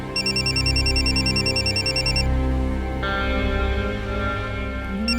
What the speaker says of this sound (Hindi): हाँ, जतिन, अदिति का फोन है, मैं उठा लूं?